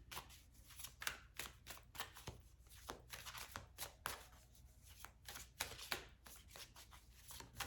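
Tarot cards shuffled in quick repeated riffling bursts, crisp papery flicks that rise and fall in clusters, close and fairly quiet, with no voice over them.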